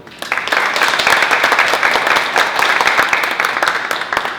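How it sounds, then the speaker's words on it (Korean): Audience applause fills a hall at the introduction of a comprehensive drill exercise, a loud, dense wash of many hands clapping that swells and sustains for several seconds. "긴장 많이 했으니까 박수 부탁드립니다"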